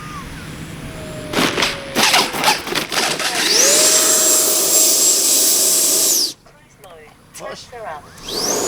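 A Freewing 90mm F-4 Phantom II RC jet's electric ducted-fan engine roars past in a loud, rising whine that holds and then cuts off sharply, with someone talking intermittently.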